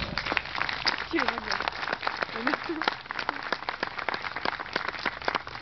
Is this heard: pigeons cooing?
no